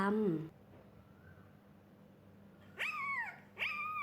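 A dog gives two sharp, rising yelps close by, separated by a short pause, after a brief whine at the start.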